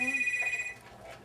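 A telephone rings indoors during an interview, a steady electronic trill that stops partway through, with quiet room sound behind it.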